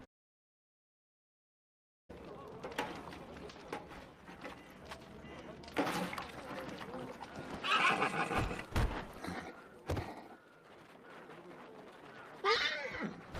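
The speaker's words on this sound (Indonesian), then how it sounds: "ternyata kuda-kuda di benteng itu mulai mati kelaparan karena tak ada rumput yang bisa dijadikan" Horses at a besieged fort whinny and neigh amid clopping hooves and a busy, shifting background, with one loud neigh standing out midway and another toward the end.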